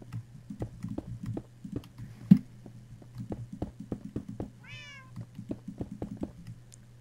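A Minecraft cat gives one short, clear meow near the end, heard over soft, rhythmic keyboard tapping and game clicks, with no talk.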